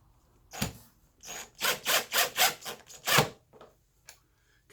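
Power drill driving pocket hole screws into a mobile miter cart, a series of short whirring bursts with a louder opening and closing pull and brief pauses between, followed by faint clicks.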